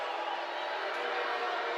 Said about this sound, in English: And there's some booing